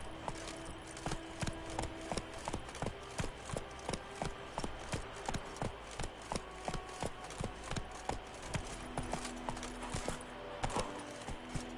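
Roach's hooves clip-clop in The Witcher 3, a regular run of fairly quiet, evenly spaced strikes that carries on for several seconds over a faint game backdrop.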